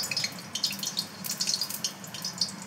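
Fritter batter sizzles in hot oil, a dense, steady crackle and hiss with many small pops, close and fairly loud, with no speech over it.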